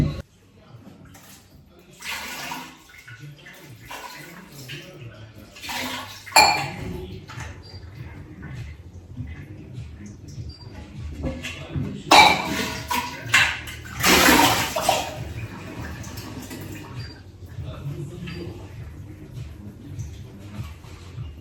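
A small clay water pot, a matka, being washed and filled: splashing, pouring and trickling water with scattered clinks and taps against the pot, moderately close, some bursts louder, occasional speech in between.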